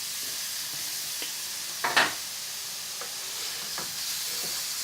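Prawns coated in spices are stirred in a pan over low heat, a faint gentle sizzle broken by a few soft spoon scrapes and one sharper clink near the middle, no one speaking.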